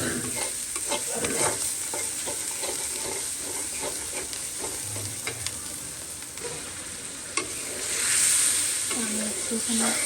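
A spice paste cooks down with a little water in a pan and is stirred steadily. The close, continuous sizzle carries repeated scraping stir strokes and brief bubbling hisses.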